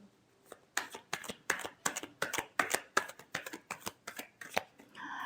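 Tarot cards shuffled by hand for a love reading, a quick run of a dozen or so crisp riffling bursts in steady rhythm, close and clear with no talk over them.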